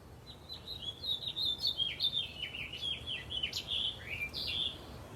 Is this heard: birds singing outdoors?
yes